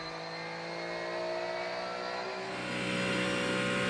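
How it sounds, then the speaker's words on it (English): Race cars accelerate hard at a restart in an IMSA race at Mosport, including a Mustang and a Porsche, their engines rising in pitch together, loud and sustained, growing louder near the end. "with the race once again going back to green, Mike Rockenfeller is all over the rear"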